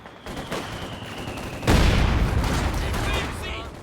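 Artillery barrage in a war video game: a quieter battlefield, then a loud rumbling onset of heavy explosions and rolling booms that hold for several seconds.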